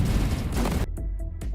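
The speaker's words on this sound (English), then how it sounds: "See this explosion right here? These are effectively cluster bombs." Cluster bomb explosions in the Everspace 2 space combat game burst as a loud rumbling blast followed by a quick series of sharp, close detonations.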